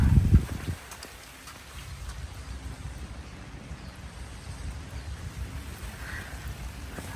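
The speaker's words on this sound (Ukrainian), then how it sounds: "Дощик міленький падає" Light rain patters steadily and softly outdoors, a continuous gentle hiss of drops after a brief low rumble at the start.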